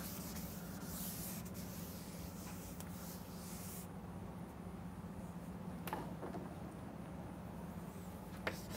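Writing being rubbed off a lecture board with a duster, a faint breathy wiping sweep in the opening seconds, then quieter room tone with a few light knocks.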